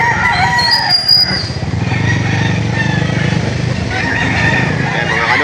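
Brahma chickens crowd a poultry auction market, with crowing and clucking over a constant noisy din of engines and other birds.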